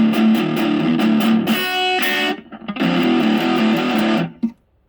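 An electric guitar through a Boss OD-2 Turbo Overdrive pedal plays loud, saturated sustained chords, then a short break and another ringing chord that cuts off abruptly, with no voice.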